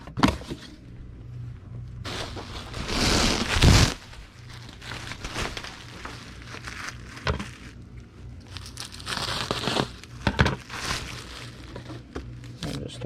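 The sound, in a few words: bubble wrap sheet being handled and folded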